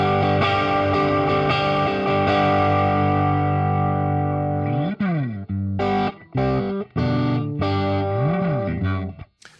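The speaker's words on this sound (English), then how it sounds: "So I've got my Tube Screamer first," Electric guitar played through a Tube Screamer overdrive pedal emulation in Ampire amp software, with sustained driven chords ringing out first, then a series of shorter strums and bends with brief gaps between them.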